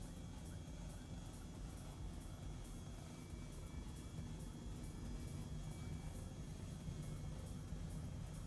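An Airbus H135 helicopter hovering in Microsoft Flight Simulator over Sydney makes a steady, continuous rotor and turbine drone at an even level throughout, with a faint rhythmic blade chop and no talking.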